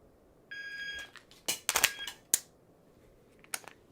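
A short electronic shot timer beep sounds, followed by quick clicks and clattering metallic noises of a dry-fire magazine reload, then a final sharp click.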